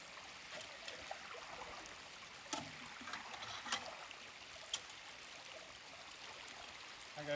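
A river stream flows quietly at a gold-prospecting spot with a high banker set up. It is a faint, steady wash of water with a few small splashes and clicks.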